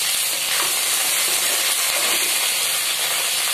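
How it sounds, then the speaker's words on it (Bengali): Pre-soaked asafoetida dropped into hot oil, giving a loud, continuous close hiss and sizzle that stays even throughout with no pauses and no voices. "এবারে আমি দিয়ে দিচ্ছি হিংকে, আমি ভিজিয়ে রেখেছিলাম, সেই হিংটা আমি দিয়ে দিচ্ছি। একটু ভেজে নেবো এবারে।"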